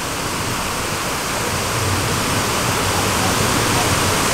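Water pours continuously into the World Trade Center memorial fountain in New York, a loud, steady, broadband rushing roar with no break, close and enveloping.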